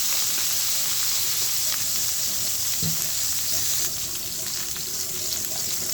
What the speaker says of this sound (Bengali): এখানে আর চার পাঁচটা বেগুন আছে এগুলোও ভাজি করে নিতেছি